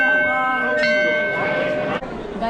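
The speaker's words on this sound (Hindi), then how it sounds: "मंदिर की घंटी बजाना।" Temple bell rung by children at a Krishna birthday celebration, bright sustained metallic ringing with a couple of fresh strikes, heard alongside voices nearby.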